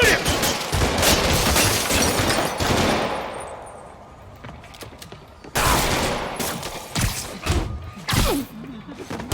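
Robbers open fire in a Spider-Man Remastered video game scene, bursts of rapid gunfire and heavy impacts that ease into a quieter stretch before more sharp shots crack out.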